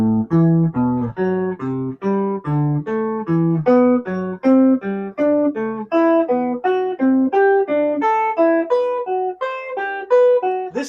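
Guitar runs up and down a scale in descending fourths, a steady stream of clear plucked notes played alone at an even rhythm for about eleven seconds.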